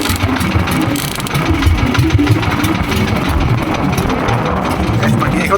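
A boat engine idles continuously at a sea pagoda festival in Calabanga, Camarines Sur, with a low, rumbling, rattling, chugging texture, loud and close, with faint voices mixed in.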